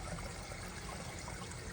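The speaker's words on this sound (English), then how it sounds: "So the water is just channeling out of this little bog and then out into the pond." Water trickling out of a small bog filter into a backyard turtle pond, a soft continuous babbling dribble, faint and steady, with no talking.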